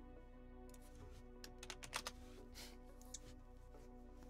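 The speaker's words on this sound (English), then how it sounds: "Actually, have you ever heard me typing before?" Fingers tapping a computer keyboard in a quiet room, producing a short, faint cluster of light clicks against a low background hum.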